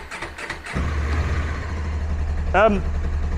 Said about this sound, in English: No smoke, running motorbike.